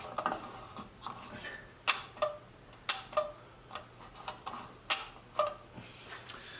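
A 2005 Scion xA gas cap is twisted onto the filler neck, its ratchet giving a string of crisp, uneven clicks, close up in a quiet setting.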